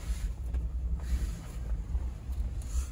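Strong wind at the coast on Tiree during a windsurfing wave event, a low rumbling buffet on the microphone with steady gusts and faint surf-like hiss, no talking.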